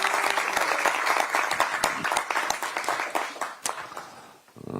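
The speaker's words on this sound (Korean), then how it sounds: "큰 박수를 부탁드리겠습니다" A crowd applauds steadily at a Korean Democratic Party campaign committee event, dense clapping filling the room for several seconds before it thins out near the end.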